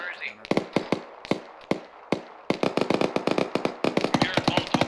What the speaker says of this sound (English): Hearing multiple gunshots to the east.